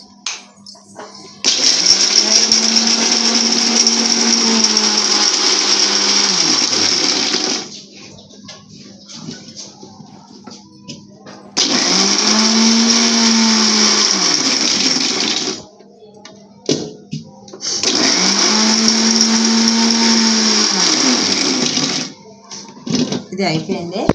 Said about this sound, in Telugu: వేయించి పెట్టుకున్నాం కదా, ఇది మిక్సీ పట్టాలా.